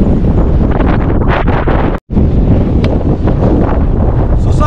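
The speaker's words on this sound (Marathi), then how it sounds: "सुसाट वारा, विसापूर फोर्टवर सुसाट वारा सुटला आहे." Strong wind roars across the microphone on Visapur Fort, loud gusty buffeting and rumble that cuts out for a split second midway before resuming, with no talk.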